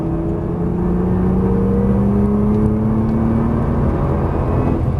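Nissan GT-R accelerating out of a corner, a steady loud engine drone with a rising tone as the throttle is squeezed, continuous and close, with no talk.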